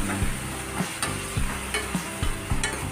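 Drumsticks frying in a pan with onion for sambar, stirred in repeated scraping strokes about every half second over a steady close sizzle, no talking.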